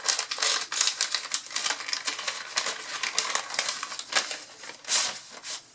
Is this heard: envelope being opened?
yes